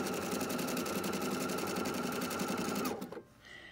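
Sewing machine, a Bernina, Baby Lock or Pfaff, stitching couching embellishment with a fast, steady needle rhythm that runs close and clear, then stops abruptly near the end.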